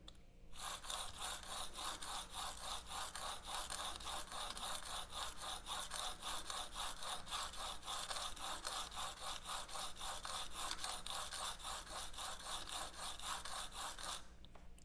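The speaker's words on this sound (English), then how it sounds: "setting that on the first diamond plate, the 240, I'm just going to go back and forth" A steel broadhead drawn back and forth over a 240-grit diamond sharpening plate on a workbench, a steady run of rapid, even scraping strokes, close and continuous throughout without pauses or talk.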